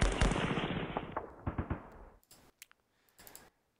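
Gunfire in the Rising Sun war video game: a loud opening burst of rapid shots that thins into scattered, fading pops, then a few short clicks and bursts near the end, with no voices.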